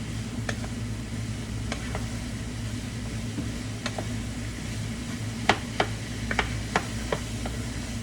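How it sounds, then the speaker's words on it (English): Low, steady bubbling and sizzling of meat and potatoes simmering in gravy in a pan, with occasional light clicks and taps of a utensil against the pot. "I'm about to add the gravy to the meat and potatoes."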